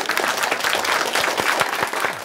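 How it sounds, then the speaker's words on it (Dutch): An audience of primary school pupils and adults applauds at a school festival event, dense continuous clapping with scattered sharper claps, fairly close and lively. "Mag ik een donderend applaus voor Justin en voor Chicander?"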